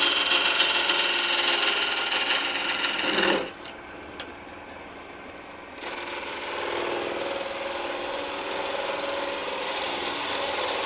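A wood lathe scrapes and rasps as a tool cuts into a spinning oak shot glass, a steady gritty shaving noise that drops off briefly when the cut pauses, then resumes more softly.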